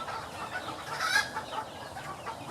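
Hens on a bird-rearing farm cluck faintly in the background, a few soft scattered calls over low ambient noise, with no speech.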